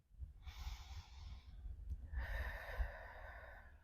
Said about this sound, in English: I want us to take a few deep breaths in and out. Deep inhales, deep exhales.